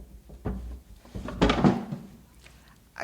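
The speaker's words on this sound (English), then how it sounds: "Oh, here in the drawer should do for now." A wooden drawer slides open and bumps shut in a period audio drama, a few close, quiet knocks and a brief scrape, with no voices over it.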